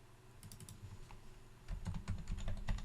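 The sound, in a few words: pressing Ctrl+C and Ctrl+V on a computer keyboard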